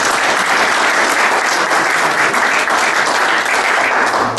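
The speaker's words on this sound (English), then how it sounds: "So I think we all should give Ian a round of applause." Audience gives a round of applause at a speaker event, dense steady clapping at full strength throughout with no voices over it.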